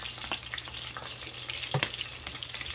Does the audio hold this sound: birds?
no